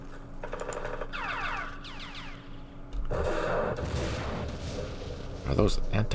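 Anti-tank gunfire in a Middle East war strategy game: sharp repeated shots and blasts, some with descending whistling tones, a heavy burst midway and another near the end, over a steady low hum.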